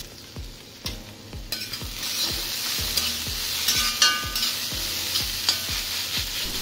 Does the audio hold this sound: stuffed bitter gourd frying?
yes